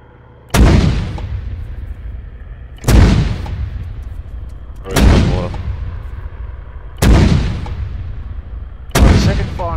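Mortar rounds fire in a military video game: five loud, deep blasts land at steady intervals of about two seconds, each trailing off into a rumbling decay, with no voices.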